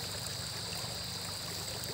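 Water flowing at Wawa Dam, a steady even rushing hiss throughout, close and continuous with no talk.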